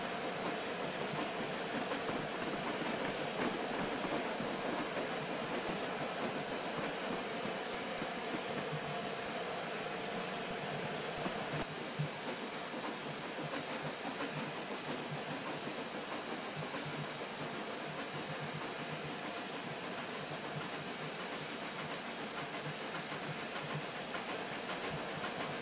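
Continuous rumble and hiss of a Bulleid Q1 steam locomotive hauling a train with a brake van on the Somerset and Dorset line in Train Simulator 2015, with faint clickety-clack of wheels, steady and unbroken throughout.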